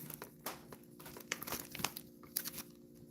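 Paper and decal sheet crinkling and rustling with small snips and tears while red Penn Central logo decals are cut out for a model locomotive, faint, close and irregular.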